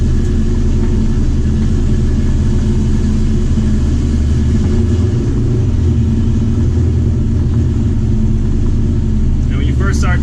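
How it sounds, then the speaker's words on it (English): Foxbody drag car freshly fitted with new rear gears rumbles steadily, a loud, deep engine drone holding through the whole stretch with a brief rise near the middle and a faint chirp at the end. "And now I'm gonna go ahead and start the car and take it for a ride."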